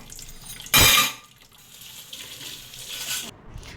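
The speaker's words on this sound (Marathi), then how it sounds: "मी चहाची वगैरे भांडी धुवून घेतली" Tea cups and pots are washed at a kitchen sink, with a loud burst of running water followed by softer splashing and rinsing close by.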